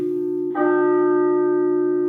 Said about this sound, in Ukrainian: це режим е, гонга годинника спрацював по таймеру